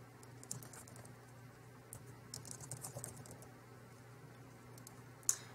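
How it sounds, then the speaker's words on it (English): Quiet typing on a computer keyboard, a scatter of soft key clicks in short bursts over a steady low hum, ending with one sharper, louder tap. "So I am going to type my name."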